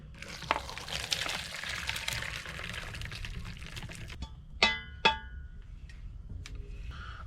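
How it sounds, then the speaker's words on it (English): Cooking water from a pot of leeks and potatoes poured through a colander into a bowl aboard a narrowboat, a steady pouring rush over several seconds ending with a few sharper splashes and drips. "I'm going to strain it through a colander, and I'm going to keep the water at the moment"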